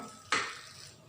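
A utensil knocks and scrapes once against a pan while melted margarine is stirred, a single close clink followed by a short fading ring in an otherwise quiet kitchen.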